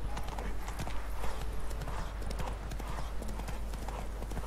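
Rhythmic hoofbeats of a galloping horse in the video game The Witcher 3, steady and continuous, with a low constant rumble underneath and no voices.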